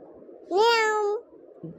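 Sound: child imitating cat meow

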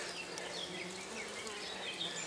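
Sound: honeybees buzzing at flowering plants

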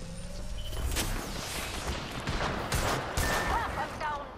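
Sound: gunfire from a gun in the video game Apex Legends

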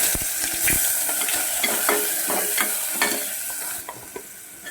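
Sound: onions and green chillies frying in oil

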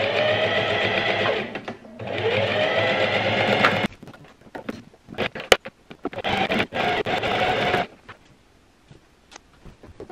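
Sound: sewing machine stitching fabric pieces

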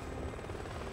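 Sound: helicopter flying near the house in the video game Resident Evil

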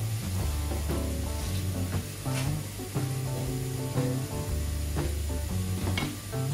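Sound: stirring and sizzling spices in a pan

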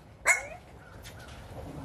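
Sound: dog barking

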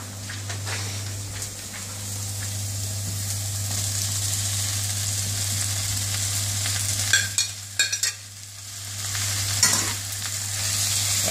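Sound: vegetables, mushrooms and corn frying in a pan

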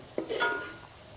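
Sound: serving cashew masala bhaji into a plate

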